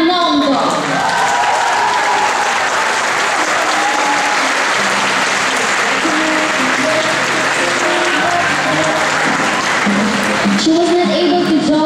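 Warm, sustained applause from an audience at an award ceremony in Barcelona, loud and continuous for a recipient, with a voice speaking over the crowd and cheers near the end.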